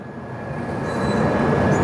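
A Mumbai–Ahmedabad double-decker express train overtakes on a parallel track, a steady near rumble of rolling railcars with a faint wheel squeal that grows slightly louder as it passes.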